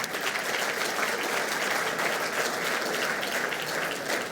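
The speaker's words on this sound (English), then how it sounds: "So round of applause for all of our friends tonight." A room of guests at an awards dinner applauds, a dense and steady clapping that holds at full strength from start to finish with no talk over it.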